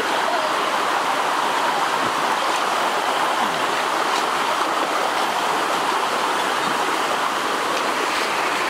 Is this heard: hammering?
no